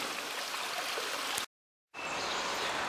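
Steady rushing and gurgling of a flowing spring-fed stream on a hiking trail, close and continuous, broken by a brief half-second of silence before the water resumes.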